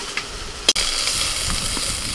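Flat beans fry in hot oil in a pan, giving a steady, close sizzle that holds even throughout, broken near the start by one brief sharp clatter.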